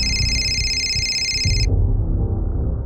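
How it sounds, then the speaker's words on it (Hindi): An electronic telephone ring sounds as a steady, bright tone over a low background for about a second and a half, then cuts off abruptly. "सर, कांस्टेबल का फोन है।"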